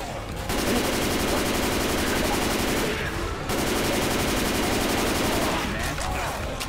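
Sustained rapid automatic gunfire from Left 4 Dead 2 blazes loud and continuous in two long bursts with a brief gap between, covering the whole stretch while voices talk underneath.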